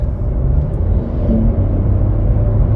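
A BMW M4 engine rumbles as it passes close by, a steady low growl rising slightly in the middle before holding.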